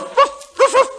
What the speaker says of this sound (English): He just barked the funniest thing I've ever heard.